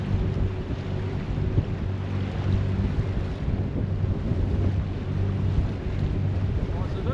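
A tugboat spins round and round in tight circles on open water, its low engine drone churning steadily beneath heavy wind buffeting the microphone, with faint voices nearby.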